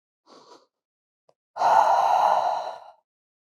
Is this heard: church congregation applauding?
no